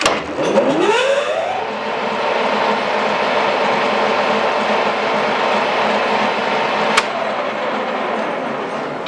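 A 1A616 lathe runs on 220 V. Its motor spins up with a rising whine, then settles into a loud, steady hum broken by a single sharp click near the end.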